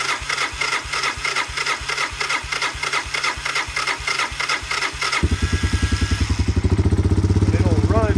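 Honda Big Red ATC 250ES three-wheeler engine on choke on a cold day, chugging in a steady fast rhythm, then abruptly shifting to a smoother, higher, faster putter as it catches and revs.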